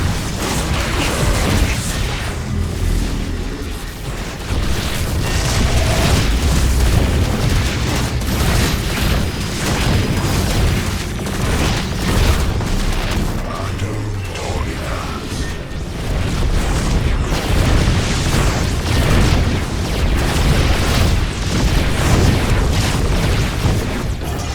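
Explosions from a crystal being destroyed in the StarCraft II video game, with repeated booming blasts and mechanical clatter rolling on steadily and loudly, dense and continuous without any talking.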